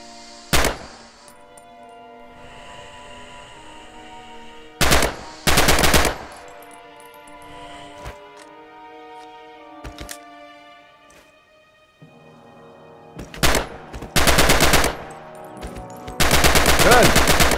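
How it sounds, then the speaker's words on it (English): Blind-fire bursts from the Rising Storm training range rip out in loud, sharp volleys between quieter stretches with a low ambient hum, several separate bursts across the span. "Use blind fire now and see what you can hit."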